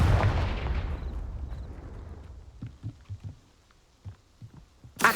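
Confringo fire spell explosion in the video game Hogwarts Legacy: a loud, booming blast that decays over about two seconds, followed by several soft, dull thumps and a final sharp burst at the end.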